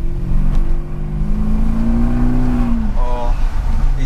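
A BMW 745i E65 engine with its exhaust cut-off valve open revs loud and close, its deep drone rising steadily in pitch, then dropping off while the car drives on an urban road.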